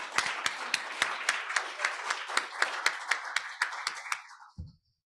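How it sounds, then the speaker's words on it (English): A round of applause at a Rotary Club meeting indoors, a small group clapping in sharp, fairly regular strokes that stay steady for about four seconds and then stop abruptly, followed by a soft thump. "One more round of applause,"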